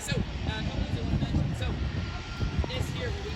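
An airplane landing at Vancouver, its engine roar a broad, steady rumble heard from a distance under the bustle and chatter of people nearby.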